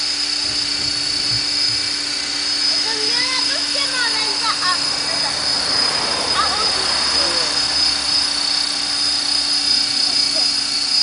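A T-Rex 500 RC model helicopter flies nearby with a loud, steady high-pitched whine of its rotor and motor, and voices talk over it in the middle.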